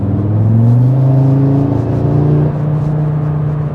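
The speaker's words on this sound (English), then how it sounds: "you hear the blow off noise, the flutter, the turbo whistle a little bit" A 2024 8Y Audi RS3 accelerates loudly up close, its engine drone rising steadily in pitch with a steady whirring tone, then easing off after a few seconds; no distinct blow-off flutter stands out.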